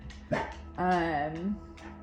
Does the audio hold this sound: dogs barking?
yes